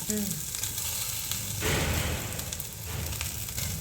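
Mutton pulav ingredients fry in a hot pan with a close, crackling sizzle. A burst of louder stirring or frying noise comes midway, and the sizzle carries on steadily with no speech.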